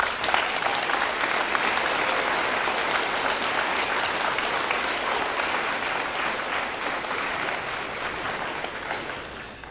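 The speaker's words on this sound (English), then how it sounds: "They need a round of applause." An audience applauds at a high school Veterans Day ceremony, a broad sustained wash of clapping that holds steady for nearly ten seconds and fades slightly toward the end.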